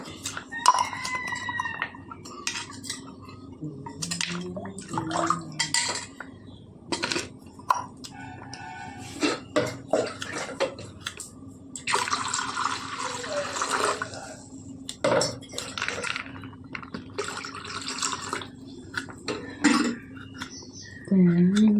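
Water splashes and gurgles into a cooking pot for koova (arrowroot) payasam in a home kitchen, in several pouring bursts with clinks of utensils, while people talk over it.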